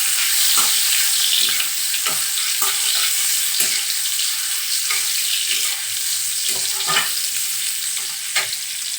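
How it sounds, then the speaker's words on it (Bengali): Prawns frying in hot oil over a low flame, a loud steady close sizzle and crackle running throughout, broken by repeated soft stirring taps and scrapes. "এরপর চিংড়ি মাছগুলো লো ফ্লেমে ছেড়ে দেবো।"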